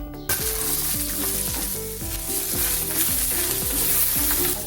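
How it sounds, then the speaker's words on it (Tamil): Onion and garlic sauté in a hot pan for a Tamil pirandai thuvaiyal, with steady loud sizzling and frying and repeated stirring scrapes that keep a rhythmic pattern throughout, with no talking. "இப்போ வெங்காயம் பூண்டு எல்லாம் வதக்கிக்கலாம்."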